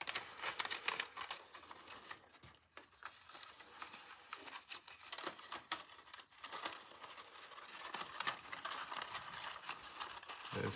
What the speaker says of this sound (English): And then it will fold together like this.